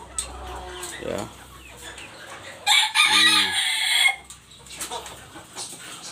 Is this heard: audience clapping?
no